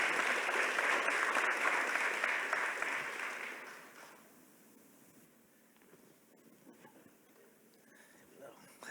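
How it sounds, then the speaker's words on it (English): An audience at a community justice summit plenary gives panelists a round of applause, a dense clapping that lasts about four seconds and fades into quiet room noise. "give me a round of applause for my panelists."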